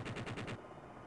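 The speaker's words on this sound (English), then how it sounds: "Attacking with cannon." An attack helicopter's cannon fires in the flight simulation game Jane's Apache Longbow 2, a quick burst of about five rapid, evenly spaced shots followed by a fading rumble.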